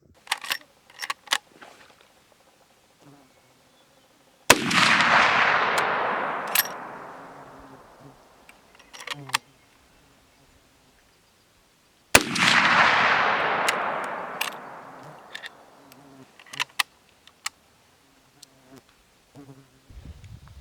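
Two loud rifle shots from a lever action rifle at an outdoor shooting range, each a sharp crack followed by a long rolling echo that fades over several seconds, with small clicks and handling noises between them.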